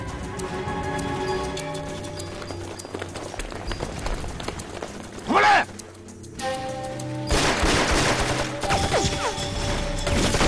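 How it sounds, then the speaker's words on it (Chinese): Gunfire and action sounds from a war film scene at a Japanese army camp, with bursts of shots, impacts and scuffling footsteps, loud and close, shifting through several abrupt moments. "枪声好像很近了"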